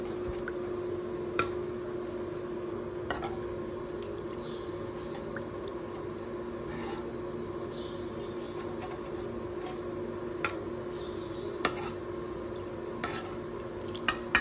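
Crab masala mixed with water in a pot during Agri Koli home cooking, a steady low wet churning with occasional sharp clinks of a spoon against the metal rim, close and quiet with no talk.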